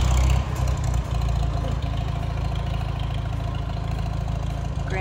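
A farm tractor with a front bucket idles in a steady low rumble throughout, close by and unbroken, with a slightly louder burst at the very start.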